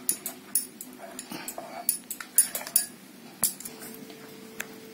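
Flour (maida) batter for malpua being mixed in a bowl, with rapid irregular clinks and scrapes of a spoon against the bowl, close and fairly loud, in quick bursts with brief pauses.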